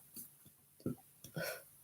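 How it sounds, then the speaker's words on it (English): A person burps softly, a short low belch followed by a second louder gulping burp, close and quiet in an otherwise still room. "I got a burp"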